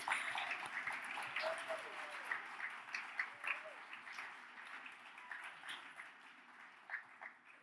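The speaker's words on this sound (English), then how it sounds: "could please get a round of applause" A round of applause at an anniversary fundraising gala for a youth writing organization, a fairly quiet, steady patter of clapping from a seated crowd heard at a distance.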